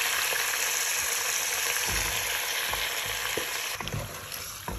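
Baby octopus fries over high heat in a pan with garlic, chili and anchovies, a dense, steady, loud sizzle throughout with a few faint knocks of stirring.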